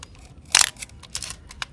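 A Canon F-1 film camera fitted with the Booster T Finder fires its shutter, one sharp mechanical clack followed by a few softer clicks, close and clear in a quiet room.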